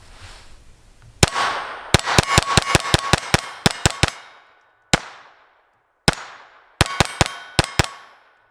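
Roughly twenty loud, sharp reports from a SIG P322 pistol firing Federal Automatch ammunition, fired close by in quick strings with brief pauses between groups and one isolated shot in the middle.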